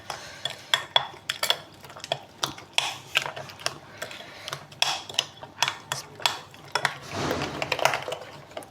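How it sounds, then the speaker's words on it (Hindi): A spoon stirs onions, spices and yogurt together in a cooking pot for beef pulao, giving repeated close clinks and scrapes against the metal in an uneven rhythm, with no talking. "बाकी सारे मसाले इसमें मिक्स कर लेंगे, अच्छी तरीके से मिक्स करेंगे"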